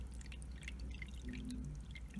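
Water with larval food being poured into a jar holding salamander larvae, a steady close trickle and drip lasting a couple of seconds at low level.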